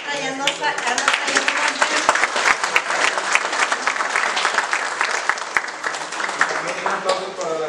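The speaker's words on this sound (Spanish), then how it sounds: "Les pido otro aplauso también para el grupo de adultos mayores de la Trinidad de Loreto, que lo está a cargo de la señora Sandra." Loud, dense applause from an audience at a community event for senior citizens, continuous clapping filling the whole stretch with crowd murmur and a voice or two mixed in.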